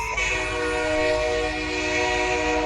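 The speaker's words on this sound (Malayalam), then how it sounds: "ഓ ഗൈസ് ട്രെയിൻ എത്തിയേ, നമുക്ക് പോവാം." A sustained, loud train horn from the video game Granny 4 blares steadily over a rumbling engine, holding one continuous chord from start to end.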